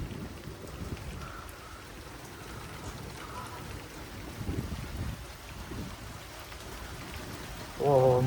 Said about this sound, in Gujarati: જબરદસ્ત વરસાદ આવ્યો છે